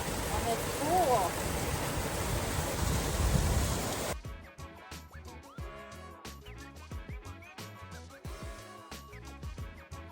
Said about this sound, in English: Look at this waterfall.